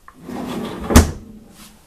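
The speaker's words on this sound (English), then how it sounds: "I do believe they're both freezer drawers." A freezer drawer in a 2020 Keystone Retreat 39FDEN RV rolls and thumps shut once near the middle, a single close, firm impact with a short low rumble of sliding before and after, no talking.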